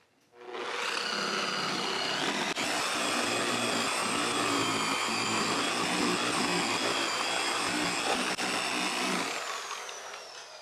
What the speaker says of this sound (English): Now we're going to do our heavy, higher speed, higher pressure cut. Same 105, but new microfiber pad.